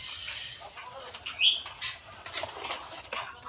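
A pigeon held in the hands beats its wings in a short, sudden flurry of flapping, close by, amid quiet rustling and faint background noise.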